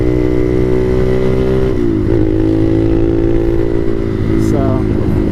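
Motomax 250 motorcycle engine running steadily while being ridden through a small neighborhood, a loud close drone with harmonic tones that dip and recover as the rider shifts, and some talk over it.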